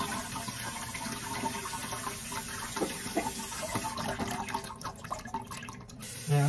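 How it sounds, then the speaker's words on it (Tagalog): Boiled liquid strained while cooking, a continuous pouring and splashing flow of water that runs steadily throughout at moderate volume, without speech. "Salain na natin."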